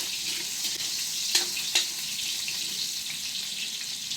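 Potato and carrot pieces frying in hot oil, a steady bright sizzle close by with a couple of sharp clinks partway through.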